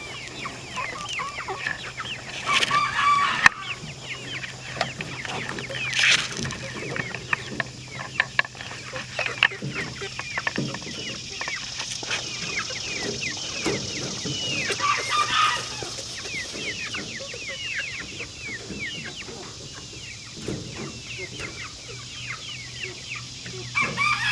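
Chickens in a chicken tractor cluck and cackle continuously at close range on a farm, with occasional louder squawks and a distant rooster crow, over soft outdoor background noise.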